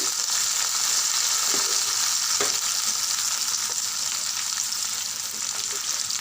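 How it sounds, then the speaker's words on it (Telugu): Onions, green chilies and curry leaves fry in oil in a pan for an egg curry, a steady close hiss and sizzle with occasional soft scrapes as the mix is stirred. "ఉల్లిపాయలు ఫ్రై అవ్వడానికి సాల్ట్ బాగా కలపాలి"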